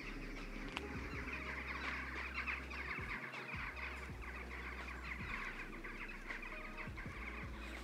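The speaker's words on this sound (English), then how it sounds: "that's a lot of birds." Many birds clucking and chattering like chickens, a dense outdoor chorus of overlapping calls at moderate distance, with a low steady hum beneath and occasional sharper notes.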